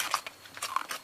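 Crunchy roasted lechon skin is bitten and chewed up close, giving a series of sharp, crisp crackles and crunches in an irregular rhythm.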